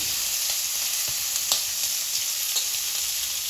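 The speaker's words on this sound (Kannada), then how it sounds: "ಎಣ್ಣೆ ಕಾಯ್ದಿದೆ. ಜೀರಿಗೆ 1 ಸ್ಪೂನ್ ಹಾಕ್ತಾ ಇದ್ದೀನಿ." Cumin, curry leaves, green chilli, asafoetida and garlic sizzle steadily in hot oil for a Kannada-style dal tadka, a continuous bright crackling hiss with a few sharper pops, close and alone.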